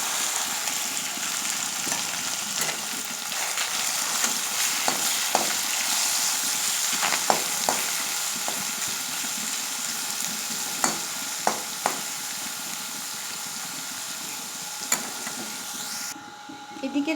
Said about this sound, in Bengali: তো মাছটা ঢেলে দিচ্ছি।